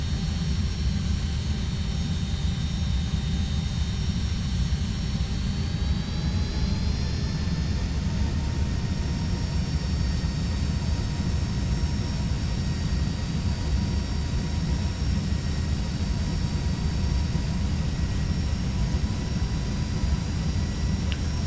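Jet engines of a FedEx Boeing 757 on approach in X-Plane 12 drone steadily and loudly, with whining tones that climb slightly as power is brought in. No one speaks over the continuous roar.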